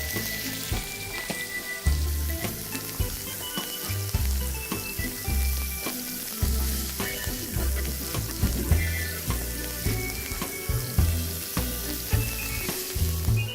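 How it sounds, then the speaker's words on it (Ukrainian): Meat sizzles and crackles steadily in hot olive oil in a pan, with music playing underneath. "і обсмажимо в сковорідці у оливковій олії."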